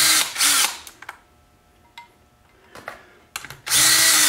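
A power tool runs the bolts off a Tremec TKO 5-speed transmission cover with a 13 mm socket, in two loud whirring bursts at the start and end, with small metallic clicks and handling noises in the quiet gap between them.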